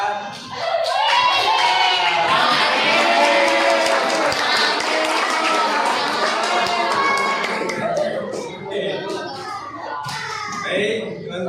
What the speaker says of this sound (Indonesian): Kita kasih tepuk tangan buat